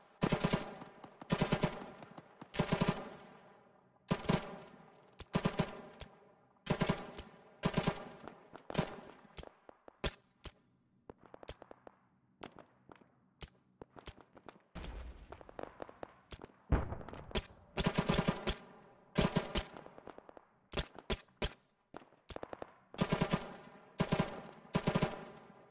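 ARMA 3 gunfire comes in repeated loud bursts of rapid automatic shots separated by brief pauses, with scattered single shots and a quieter stretch in the middle.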